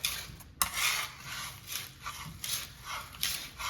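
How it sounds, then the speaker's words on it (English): A knife blade dragged back and forth over garlic with a little salt on a cutting board, repeated rubbing scrapes in an uneven rhythm, close and fairly quiet. "as I pull against my cutting board and kind of go back and forth. It macerates the garlic."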